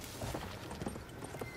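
Horse hooves clip-clop in Battlefield 1, a soft, fairly faint run of uneven hoof beats amid game ambience, with no one talking.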